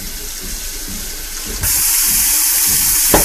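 A sink sprayer runs steady water over a Persian kitten during bathing, a close, loud continuous hiss that grows stronger partway through.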